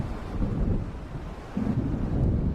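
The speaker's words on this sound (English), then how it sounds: "It seems there's a storm coming" Thunderstorm in the video game Alan Wake, low rolling thunder rumbling under steady rain and wind, building louder toward the end.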